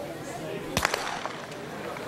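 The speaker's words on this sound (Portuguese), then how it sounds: "o tiro de largada, a prova dos 800 metros rasos." A starting pistol fires for the men's 800 metres race at the 2013 Reims athletics grand prix, one sharp crack over an outdoor stadium's murmur, with a crowd and an announcer's voice around it.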